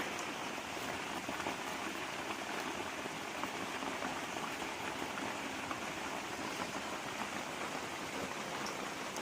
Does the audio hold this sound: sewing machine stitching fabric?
no